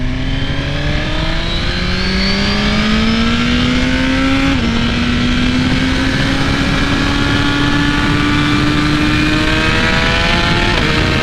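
A 2017 Suzuki GSX-R 1000 sport bike in A mode pulls hard in one long gear, its loud rising engine whine climbing steadily, dipping with a quick shift, then climbing again.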